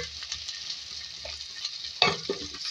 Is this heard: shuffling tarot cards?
no